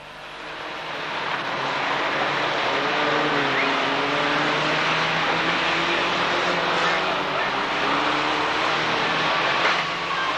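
Formula 1000 race cars at a 1991 Braintree Auto Club meeting: a steady, loud blend of several engines droning and shifting pitch as they run past, with a crowd-like wash and a commentator's voice layered over the continuous noise.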